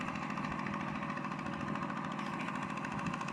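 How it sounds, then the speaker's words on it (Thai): A steady, droning engine note from a walk-behind tractor working a clay rice field, running continuously at a constant pace with no breaks. "ก็เลยต้องใส่รถไถแบบนี้"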